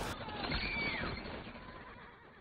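A horse neighs loudly in a film scene as its carriage goes out of control after a parked steam car suddenly lurches forward; one rising and falling whinny over a dense, noisy street background.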